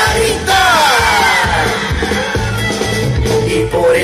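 Children in a group sing-along cheer and shout together, loud and sustained, a dense crowd of young voices yelling with a sung melody running over the top.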